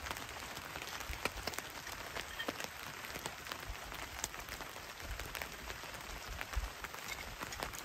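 Rain patters steadily on a tent and tarp at a hilltop campsite beside a lake. Dense, soft drops fall continuously at close range, with occasional louder taps, and there is no talk.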